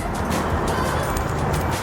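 A parrot imitates a car engine starting. Its voice produces a loud, rough, continuous rumble-like hiss that lasts the whole short stretch, close and without a break.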